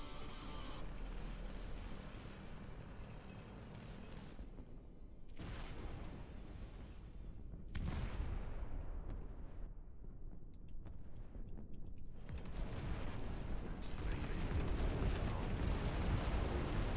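Big artillery guns fire in the RTS game Dust Front, with heavy booming blasts and rumbling explosions that recur every few seconds over a constant battlefield din, loud and close.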